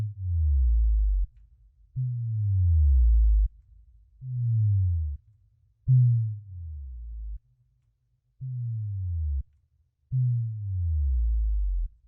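A deep synthesized bass tone sounds in six separate sustained notes, each sliding downward in pitch with a swirling phase-shifted texture, with short silences between.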